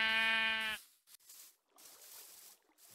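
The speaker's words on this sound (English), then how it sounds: "I found a donkey." A Minecraft donkey in the SevTech Ages modpack gives a short, nasal, harmonic call at the start, followed by faint, sparse game ambience.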